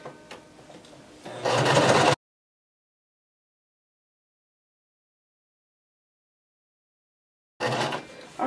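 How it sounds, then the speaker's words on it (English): A sewing machine on a long basting stitch runs along a shirt seam. A steady, close mechanical whir comes in two short bursts, broken by a long stretch of dead silence. "make sure your machine is on a basting stitch and just begin sewing."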